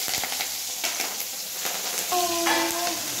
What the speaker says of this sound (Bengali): তো তেল দিয়ে দিয়েছি, এখন দিয়ে দিচ্ছি কাঁচা লঙ্কা